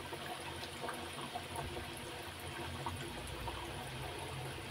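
Potato patties frying in hot oil give a steady, soft, continuous sizzle that hisses evenly throughout, close by and without talking.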